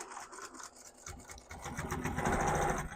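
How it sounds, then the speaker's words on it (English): A sewing machine stitches fabric straight down a seam on a beginner gift card wallet project, its needle whirring in a rapid, steady mechanical rhythm close by, starting lighter and growing louder and fuller as the run continues, with no talking. "I'm just going to sew all the way down"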